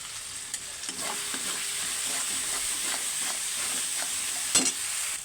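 Spice masala with a little salt fries and is stirred in a pan for chicken fry, a steady close sizzle broken by scraping spatula strokes and one sharper clatter, with no voices.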